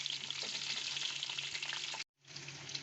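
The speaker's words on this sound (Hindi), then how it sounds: "गोभी को मीडियम फ्लेम पर हम 2 मिनट के लिए फ्राई करेंगे।" Cauliflower frying in a pan over a medium flame, a close, steady crackling sizzle that cuts out briefly near the end before resuming.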